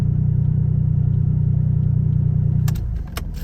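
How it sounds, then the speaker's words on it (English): A Suzuki Cappuccino engine idles steadily with a low, even hum, then the rumble drops off near the end amid a few sharp clicks and rattles. "that's where it should be idling"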